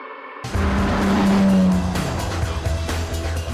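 A Ferrari Daytona's 4.4-litre V12 bursts in after a short silence, roaring loud and close as it accelerates hard, with a squealing tire edge early and the engine note holding strong throughout.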